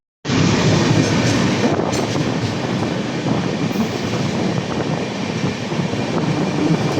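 The Mahanagari Express roars past during a crossing with a sudden onset of loud, continuous rumbling and wheel noise that fills the whole stretch, close and sustained.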